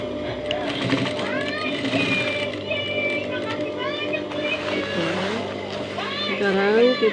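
Sewing machine stitching the sides of a floor seat cushion made of foam covered in imitation fabric, a steady mechanical whir running throughout under a busy background of squealing, chirping sounds.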